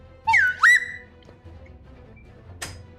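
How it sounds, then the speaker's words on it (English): A slide whistle sound effect runs up and down in pitch twice in quick succession near the start, loud and close, followed by a brief sharp squeak a couple of seconds later over quiet background hum. "You get the slide whistle anyways."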